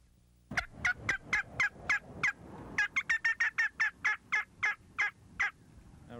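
A turkey call imitates a hen turkey's cackle: a rapid run of about twenty sharp, raspy yelps, loud and close, in an irregular, quickening rhythm with no voices.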